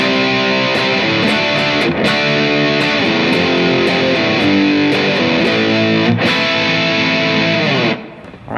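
A distorted electric guitar plays the chorus of a song, with loud, sustained ringing chords changing in a steady rhythm before the sound drops off near the end.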